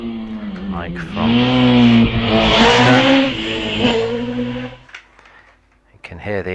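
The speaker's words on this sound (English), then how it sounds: "you can hear the engine working hard" Self-built Storm race car at a hillclimb, engine revving hard as it accelerates away, loud and close for about five seconds, then fading as a commentator talks over it.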